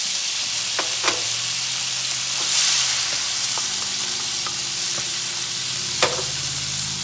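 Tomato and onion fry in a pan with a steady, fairly loud sizzle, joined by a few sharp clicks and stirring scrapes of a utensil against the pan.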